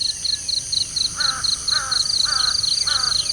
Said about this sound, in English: Well, there's a bird